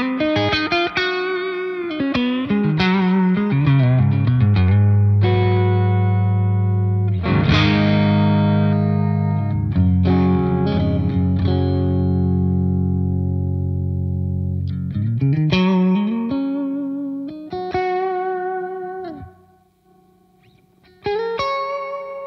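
Electric guitar run through a Game Changer Audio Light Pedal spring reverb, played with sustained chords and single notes that ring out with a wet, splashy tail, loud and alone, briefly dropping near silence before a final strum.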